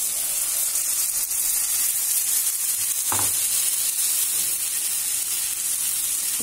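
Sooji uttapam batter sizzles steadily on a hot pan, a constant bright frying hiss with a soft scrape or tap partway through.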